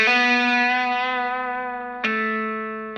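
Electric guitar through heavy fuzz plays a pull-off lick from a song's solo, a loud sustained note that fades before a second sharply picked note rings out, thick and distorted with a hint of echo.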